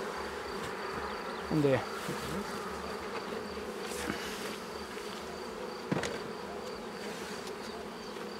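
Honey bees buzz thickly around an open beehive during a varroa treatment in the honey flow, a steady close hum with a few louder passes as bees fly near, and a brief spoken question partway through.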